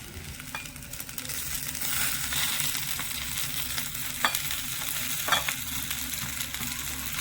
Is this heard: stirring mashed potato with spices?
yes